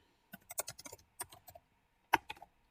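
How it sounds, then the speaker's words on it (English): Typing on a computer keyboard, close and quiet: irregular clusters of crisp key clicks with short pauses, ending in a louder single tap and a few trailing keystrokes. "And I'm going to go ahead and type in my next one."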